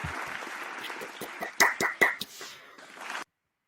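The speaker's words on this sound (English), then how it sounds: "Clap your hands if you've been enjoying these seasons so far" A small group in a sports podcast studio claps hands in a short run of sharp, fairly near claps that cluster midway and then fade out.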